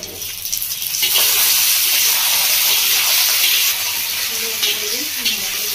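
Washed, cut pointed gourd and potato pieces drop into a pan of lightly fried onions with spices, setting off a loud, steady hiss of frying that stays close and continuous throughout.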